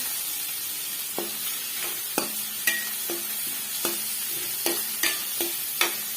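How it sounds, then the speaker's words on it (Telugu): Small fish curry with tamarind leaves being stirred by hand, mixing in salt, turmeric and chili: a steady run of close, sharp scrapes and clacks in an uneven rhythm over a soft bed of noise, with no voices. "ఉప్పు, పసుపు, 1 స్పూన్ కారం అన్నీ మిక్స్ చేసేసేయాలి"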